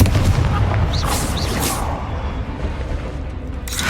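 A Confringo fire spell explodes in Hogwarts Legacy with a loud, deep blast, followed by a rumbling fiery crackle and a couple of brief whooshing sparks, with no voices.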